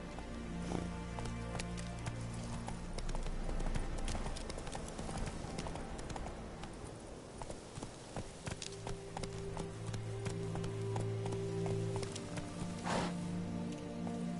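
Geralt's horse Roach gallops in The Witcher 3: Wild Hunt, steady hoofbeats thudding in a quick clip-clop rhythm throughout, moderately close, with a faint voice at times.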